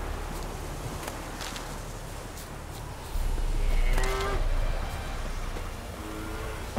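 Cattle low in a video game countryside, with a drawn-out moo rising over steady outdoor ambience and a shorter, fainter moo following, no talking.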